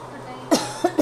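A person suffering from a bad cough, with chest pain, coughs three times in close succession, loud and near, after a brief quiet stretch of room hum.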